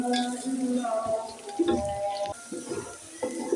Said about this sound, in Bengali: পেঁয়াজ দিয়ে দিচ্ছি পেঁয়াজ আলুগুলোকে আমি ভেজে নিচ্ছি